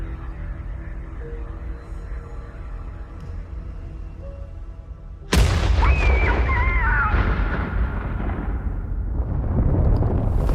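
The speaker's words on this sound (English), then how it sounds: "2:07 p.m., and there's a third explosion" A loud explosion in an audio drama bursts suddenly after a low rumbling bed, then trails into a long roaring, crackling decay with wavering whistling tones, heavy and booming without any talking.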